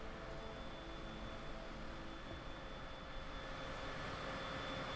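Airliner jet engines in Microsoft Flight Simulator 2020 run at about 30% throttle on approach to Aspen-Pitkin County Airport, giving a quiet, steady broadband roar with a faint constant whine.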